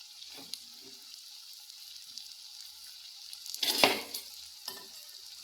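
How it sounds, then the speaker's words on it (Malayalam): Carrot thoran with green chilli stirred in a pan: a faint, steady sizzle with a few soft scrapes and one louder stirring scrape near the end, no voices. "ഇളക്കി കൊടുക്കാം"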